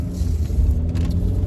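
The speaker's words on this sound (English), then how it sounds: "Man, traffic's crazy." Road traffic rumbles steadily around a car driving through rain, with a broad low drone and a faint hiss of wet tyres at close range, and no one talks.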